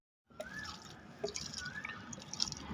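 Water is poured onto a newly planted hibiscus sapling. After a moment of silence, a faint, close trickle and splash starts and keeps running unevenly to the end.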